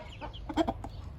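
A hen clucks a few soft, quick notes in a short burst, fairly faint against quiet farmyard background.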